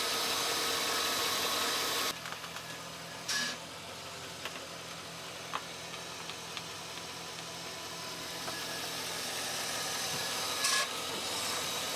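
A 2003 Chevrolet Silverado truck engine idles with a steady low hum and faint hiss, joined by a few brief clicks and knocks, heard fairly quietly and alone.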